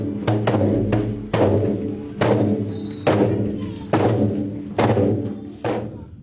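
Deep resonant beats on a rapai frame drum strike at a slow steady pace, each booming hit ringing out and fading before the next, loud and close.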